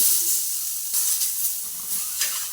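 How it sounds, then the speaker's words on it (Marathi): Tomatoes roasting in a pan for Pandharpur bazaar amti give a steady close sizzle with soft hiss, broken by a few light stirring scrapes, and no talk. "आता आपण टोमॅटो भाजून घेऊया"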